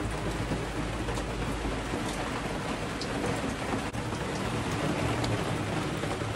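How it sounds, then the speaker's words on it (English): Steady rain falling on and around a garden shelter, a dense, even patter close by that fills the whole stretch without a break, with no talk over it. "it just sounds really nice up here when it's raining, so I thought I would pop up and just listen to the acoustics of the rain"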